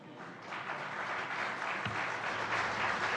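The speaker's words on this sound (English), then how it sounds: "immediately everyone applauds" Audience applause at a diplomatic dialogue event, a steady wash of clapping that swells from faint to full across a few seconds.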